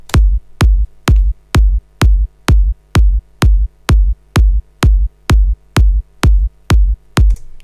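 A Melbourne Bounce drum loop plays on its own: a steady, loud run of evenly spaced punchy kick hits, clicky at the attack with a short low thump, repeating about twice a second.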